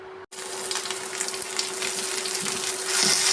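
Onion, curry leaves and green chilli sautéing in a pan, a steady hiss of frying that builds slightly toward the end, with a constant faint electrical hum underneath.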